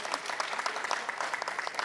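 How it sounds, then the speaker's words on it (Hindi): Studio audience applause at an Indian television debate show, brisk steady clapping from many hands at moderate distance, continuous throughout with no talk over it. "इनके लिए ताली बजाओ भाई।"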